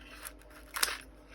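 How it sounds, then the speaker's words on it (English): Scissors make a couple of quick, crisp snips indoors while sorting a thrift store haul, faint and close, the second cut sharper than the first. "Scissors."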